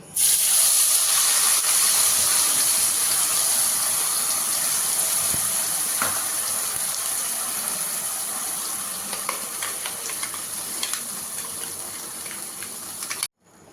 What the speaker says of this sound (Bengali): এরপরে আমি এর মধ্যে এই পেস্টটা দিয়ে দেব